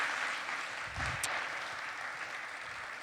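An audience applauds a startup pitch presenter at an early-stage venture competition, a steady wash of distant clapping that holds at an even level throughout.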